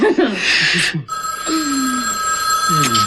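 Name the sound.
telephone ringing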